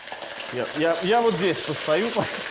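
Offal for kyzdyrma fries in a pan over high heat, a soft continuous sizzle running beneath someone speaking close by.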